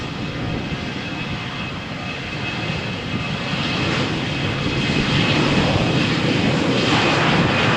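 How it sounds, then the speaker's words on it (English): A Vueling jet airliner takes off from Malaga Airport on a stormy morning, its engines building into a loud, sustained roar that grows slightly stronger toward the end, with no voices. "Vueling flight to Santiago de Compostela cleared for takeoff."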